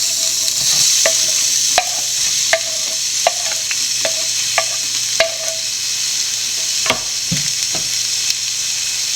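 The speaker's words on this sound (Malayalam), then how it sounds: "ആദ്യം നമുക്ക് ഈ പപ്സിൻ്റെ ഫില്ലിങ്ങിനായിട്ടുള്ള സവോള വഴറ്റാം." Sliced onions sautéing in oil in a pan for a chicken puff filling give a steady hiss, broken by a series of sharp spatula taps and scrapes at irregular intervals, with no speech.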